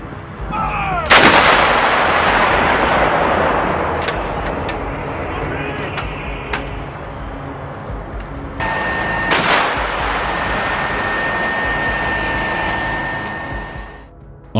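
Artillery guns firing on command in the war in Ukraine, with a loud blast and long rolling echo, then further sharp reports and a second heavy boom under a steady rumble.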